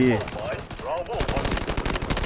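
Sustained full-auto AK-12 fire in the mobile shooter Delta Force Mobile, a dense, loud rattle of shots throughout, with a voice briefly talking over the opening and middle.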